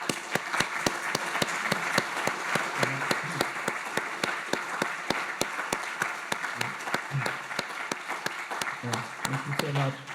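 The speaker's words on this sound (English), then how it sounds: "I think we can greet Professor Aghion with a round of applause" Lecture audience applauding as Professor Philippe Aghion is welcomed: a steady run of evenly spaced, crisp claps over a continuous bed of applause, with some voices underneath, lasting about ten seconds.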